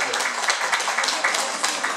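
An audience claps steadily in a brief stretch of applause filling a hall, dense and even without pause.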